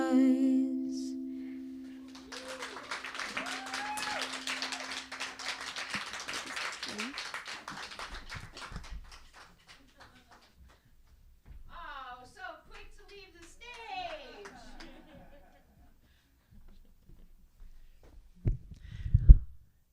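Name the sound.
audience applause after a youth music performance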